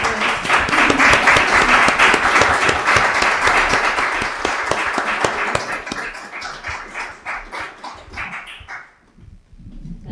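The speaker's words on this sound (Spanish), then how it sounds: "un aplauso para todos" Audience applause at a presentation of the women's heritage project Mujeres Archipiélago de Patrimonios: dense, loud clapping from a crowd that thins into scattered claps and fades out near the end.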